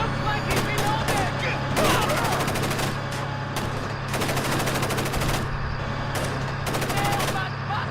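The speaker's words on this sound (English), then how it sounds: "I'm taking fire!" Sustained automatic gunfire in the stealth video game Splinter Cell: Chaos Theory, with dense rapid bursts over a steady mechanical rumble and shouted voices mixed in beneath the shots.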